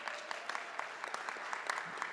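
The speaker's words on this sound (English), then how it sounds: "Give her a round of applause." An audience at a seminar claps in a steady patter of many hands, moderately distant and fairly soft, sustained for the whole stretch.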